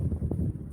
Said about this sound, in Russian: Ветер прям бешеный какой сегодня.